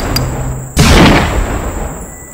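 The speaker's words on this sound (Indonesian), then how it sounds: "Di sini juga ada mainan tembak-tembakan." A single sharp toy-gun shot bursts out loudly against a steady hiss, then trails off into noisy decay.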